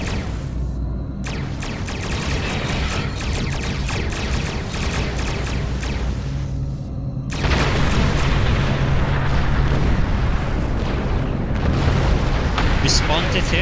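Starship weapons and explosions in the Star Trek Online game roar in a dense, loud, continuous barrage of booms and bursts during a fight with Klingons, and the din swells further partway through.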